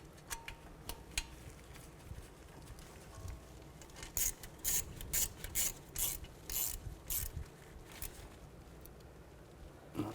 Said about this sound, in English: line that back up, put the bolt in and snug it down